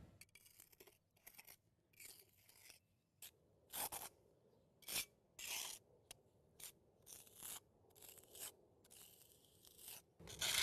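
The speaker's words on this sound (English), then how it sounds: "we're going to put it right in here with the margin trowel" A margin trowel scrapes and dabs Top and Bond concrete patch into a crack, making a series of short, quiet gritty scraping strokes separated by brief pauses.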